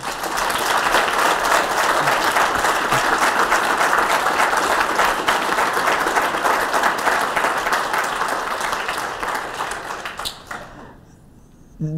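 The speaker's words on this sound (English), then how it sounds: "Can I get everybody to join me in another round of applause, please?" An audience applauds a panel discussion on drag, giving steady, dense clapping for about ten seconds that fades and tapers off near the end.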